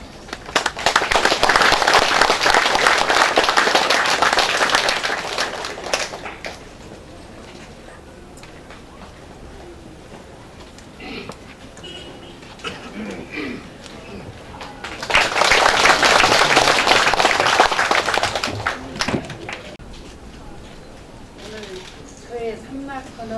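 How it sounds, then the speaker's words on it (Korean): A crowd at a building's completion and institute opening ceremony breaks into two waves of hearty clapping, each lasting several seconds, separated by a quieter stretch of room murmur. "원장님 말씀을 박수로 초대해 듣겠습니다"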